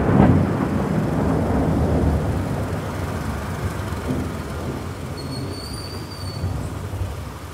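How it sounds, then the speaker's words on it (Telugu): Heavy rain pours while thunder rolls, a loud low rumble at the start that slowly fades into steady downpour noise, with no one speaking. "ఈ వర్షం తగ్గేటట్లేదు, తగ్గినాక వెళ్దాం."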